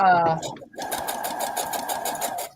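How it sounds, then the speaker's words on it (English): A sewing machine stitches together small fabric cutoffs left from stitch-and-flip piecing, running in a fast, even rhythmic chatter after a brief voice at the start. "Right now, I'm just sewing together little half the little cutoffs from the stitch and flips"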